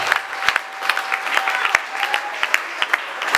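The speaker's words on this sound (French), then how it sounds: "Est-ce qu'on peut acclamer pour l'Éternel?" Church congregation clapping in praise during a worship service, steady dense applause with a few sharp louder claps, close and lively, with a faint sustained tone beneath.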